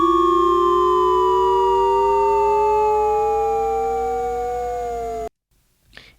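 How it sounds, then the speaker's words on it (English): A siren sound effect placed in an FL Studio trap beat wails loud and clear, its tones sliding slowly downward over about five seconds before cutting off abruptly into near silence. "I have this siren sound effect,"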